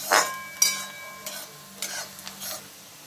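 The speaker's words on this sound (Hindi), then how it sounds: "प्याज इतना भून गया है, थोड़ा और भूनेंगे, इसे गोल्डन ब्राउन करेंगे" Onions fry in a pan toward golden brown, with a soft background sizzle broken by several sharp scraping and clinking stirring strokes.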